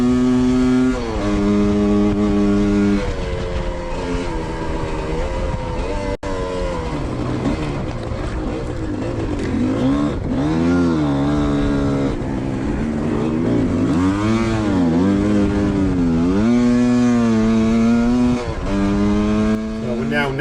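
A GPX enduro motorcycle engine revs hard at Spaunton Quarry during an Edge XC race, loud and close throughout, pitch rising and falling through gear changes with a short dip near six seconds, under a rider's voice.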